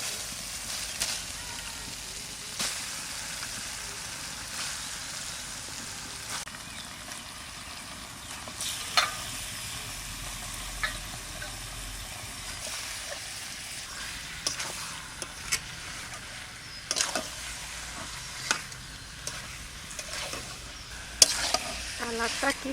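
Chicken meat sizzles steadily in a pan of well-cooked spiced masala with Himalayan timbur, stirred with scattered clicks and scrapes of the spoon, a continuous close frying hiss throughout.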